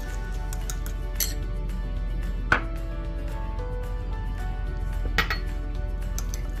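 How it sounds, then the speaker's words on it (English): A spoon stirs a small bowl of salmon marinade with salt and lemon juice, giving scattered metallic clinks and scrapes against the dish over a low steady hum, with a few sharper knocks. "Gonna give this a good stir"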